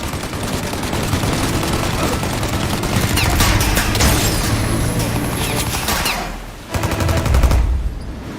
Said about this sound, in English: Shoot now while we got the chance! Now! Shoot the gun!